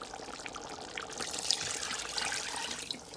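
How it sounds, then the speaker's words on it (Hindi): Water poured into a cooking pot for chicken kabsa, a steady splashing, trickling flow close by that runs throughout without any talk. "अब हम इससे पानी डालेंगे।"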